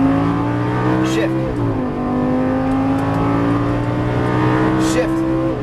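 A Lamborghini Gallardo's engine pulls hard on a race track, its pitch climbing and then stepping down through a gearshift before building again, loud and close from inside the car, with a driving instructor talking over it.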